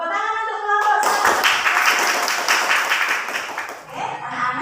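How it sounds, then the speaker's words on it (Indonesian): A classroom of students applauds a presenting student group, with a dense burst of clapping that starts abruptly, holds steady for about three seconds and then tapers off, framed by a teacher's voice before and after. "tepuk tangan untuk kelompok 1"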